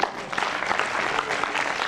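Applause from listeners at a Bhagwat Katha religious discourse in Saidpur: a short, dense burst of many hands clapping together, steady and fairly loud, with no voices over it.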